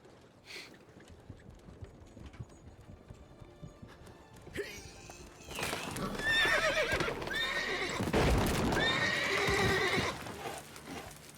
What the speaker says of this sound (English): That poor horse.